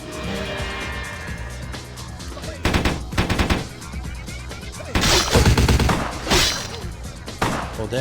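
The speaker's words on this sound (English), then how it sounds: "they're shooting me from down there" Enemy gunfire in the video game Vampire: The Masquerade - Bloodlines, rapid bursts of automatic shots in loud clusters with short pauses between them, over game music and ambience.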